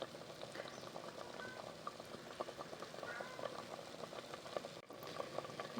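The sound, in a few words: Goan fish curry simmering in a pot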